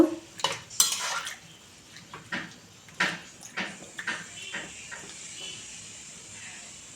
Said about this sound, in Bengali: আর পরিমাণ মতো হলুদ এটাকে ভালো করে একটু নাড়াচাড়া করে দেব